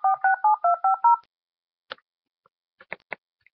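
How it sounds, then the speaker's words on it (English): A phone on speaker dials out with six rapid touch-tone beeps in a quick even run, followed by a few faint clicks and ticks in near silence. "I'm gonna call the phone number"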